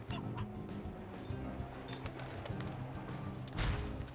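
Chickens cluck in the Slime Rancher video game. The clucking is faint and scattered, sitting in a busy bed of game ambience and effects, with a sharper burst near the end.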